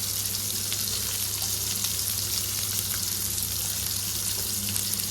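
Onions sautéing in oil in a pan for poha upma, a steady, loud, hissing sizzle with fine crackles and a low hum beneath, continuous and close.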